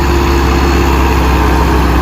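A tractor engine runs steadily and loudly close by, a deep continuous rumble that holds an even drone throughout with no voices.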